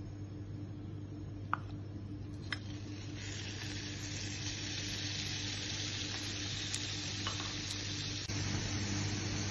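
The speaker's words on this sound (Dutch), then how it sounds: "Als de olijfolie warm is, voeg je de kip toe." Chicken for a poke bowl sizzling in hot olive oil in a frying pan on medium-high heat, a steady loud crackle running throughout with a few sharp pops and the sizzle intensifying partway through; no talking.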